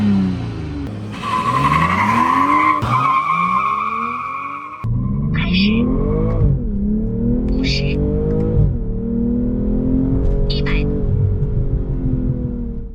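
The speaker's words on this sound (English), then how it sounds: "Let's first do a straight line acceleration to see how it performs." A 2023 BMW 240i with the B58 engine, front-engined and rear-wheel drive, accelerates hard in a straight line on a track, its note climbing through several gears with brief dips at each shift and some tire noise.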